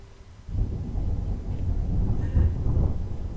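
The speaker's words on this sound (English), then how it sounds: "We've got thunder, it's all happening at the moment." Thunder from a passing storm rolls in as a low, sustained rumble that swells and stays loud and broad, heard alone without talk.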